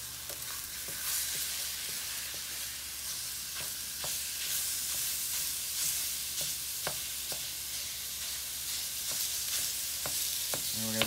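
Ground turkey sizzling steadily in a pan while being stirred, with a broad hiss and frequent scraping clicks from the utensil, close and even throughout.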